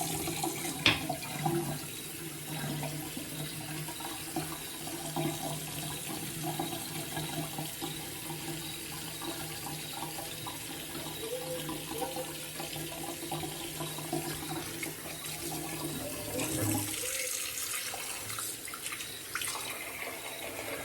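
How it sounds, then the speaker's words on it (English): Hot tap water runs steadily into a bathroom sink for rinsing a shaving brush during a straight razor shave, a continuous splashing stream that changes character near the end. "I'm letting some hot water run into the sink so I can clean my brush."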